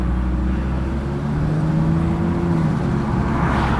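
Audi RS3 three-door car cruising in fifth gear at about 40 mph, a steady low engine drone with tonal whine from inside the cabin, continuous and fairly loud throughout.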